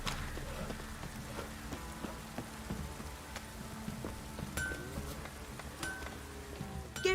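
A steady downpour from The Witcher 3 hisses evenly throughout, with scattered sharper drips and a few hollow clop-like knocks surfacing over the wash of rain.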